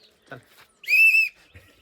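During a farewell foot-touching ritual at a bride's departure, one short, shrill whistle blast sounds close by, with faint murmuring voices and small noises around it.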